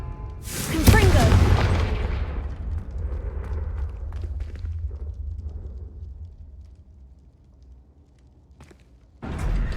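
Confringo blasting spell in the Hogwarts Legacy video game: a loud, booming explosion with a crackling burst, then a rumble that fades out. A final thud follows near the end.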